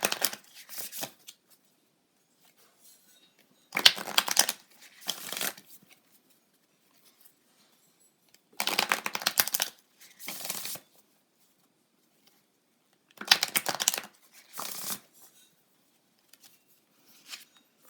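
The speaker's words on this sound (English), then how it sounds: "So I'm going to pull a card from my moon deck" Tarot cards from a moon deck shuffled by hand in quick riffling bursts, four or five separate shuffles with quiet pauses between them, close and crisp, no speech.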